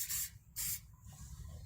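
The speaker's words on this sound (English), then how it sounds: "then we gotta spray some actually battery terminal protection there as well, the blue one" Two short hissing bursts of blue battery terminal protection spray from an aerosol can on a Mitsubishi Outlander's battery during a minor service, close and crisp, with quiet background in between.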